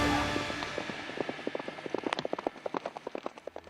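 Hooves of a presidential bodyguard cavalry horse clatter in a quick, regular clip-clop, growing sharper and louder as the horse approaches at speed over a faint background.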